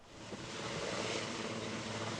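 A helicopter with a large water bucket dangling below flies over a forest fire, its engine and rotor a broad, steady roar that swells slightly and holds without any voices.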